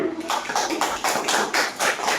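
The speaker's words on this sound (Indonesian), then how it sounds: "Tepuk tangan" A primary school class claps in unison for a group of pupils who answered a math problem correctly, with rhythmic bursts of hand claps in steady beats, loud and close in a classroom.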